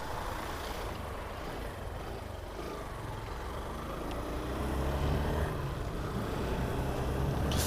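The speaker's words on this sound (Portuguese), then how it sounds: "Olha o tanto de caminhão" Heavy trucks rumble past on a wet highway near the Anchieta descent in São Paulo, a faint low roar of engines and tyres that swells louder toward the end.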